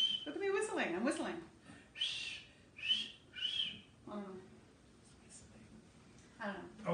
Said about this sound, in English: Look at me whistling. I'm whistling.